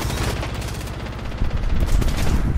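Rapid automatic gunfire from an energy weapon in the video game Apex Legends, a loud, continuous stream of closely spaced shots with no pause, swelling slightly toward the end.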